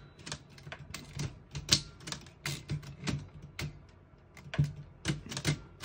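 A 1933 Corona 4 Bank antique portable typewriter is typed on, giving sharp, close, irregular key strikes with occasional bell-like ring and carriage clatter, alone without talk.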